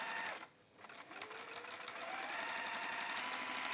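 A sewing machine runs top stitching across a 19 cm straight-clasp jewellery purse, a rapid, steady mechanical chatter close by, with one short pause near the start before it runs on continuously.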